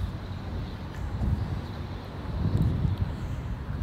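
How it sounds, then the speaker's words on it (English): Wind blows outdoors on a mild day while someone walks, a soft, steady low rumble of gusts buffeting the microphone with no voices. "Wind blowing, but when it's 70 degrees, the wind feels good."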